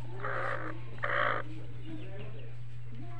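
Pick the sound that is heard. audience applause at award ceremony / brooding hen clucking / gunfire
brooding hen clucking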